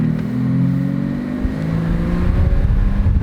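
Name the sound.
used BMW car driving and accelerating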